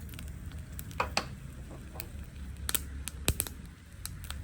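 Mustard seeds and urad lentils fry in hot sesame oil, a low sizzle broken by sharp, irregular crackles and pops.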